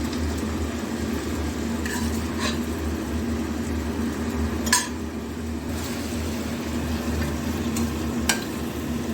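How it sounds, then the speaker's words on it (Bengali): Mutton being stirred and sautéed in a pan, with a steady low sizzle throughout and a few sharp scrapes and clinks of the spoon against the pan standing out now and then. "এভাবে নাড়িয়ে চাড়িয়ে এবার এক এক করে সব মশলা দেবো আর কষাতে থাকবো।"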